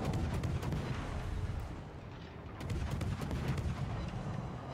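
Naval gunfire in the World of Warships video game rumbles as a continuous low barrage of booms and rolling explosions, dense and mid-distance, with no talk over it.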